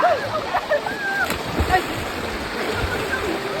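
Loud splashes burst as people jump into a cold, clear river, with continuous rushing water and voices shouting over it.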